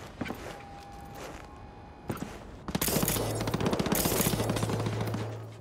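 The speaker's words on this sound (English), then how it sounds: "Why are you shooting?" Rapid automatic gunfire in Cyberpunk 2077, with a couple of single shots and footsteps first, then a loud, sustained burst of bullets that continues to the end.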